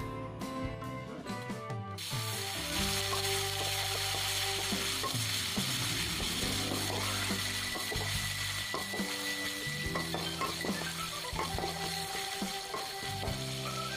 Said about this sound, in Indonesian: ini bumbunya sudah aku haluskan dan sekarang kita tumis ya